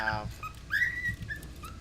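A pet bird whistling a TV theme, a few clear rising and falling whistled notes close by over a low background rumble.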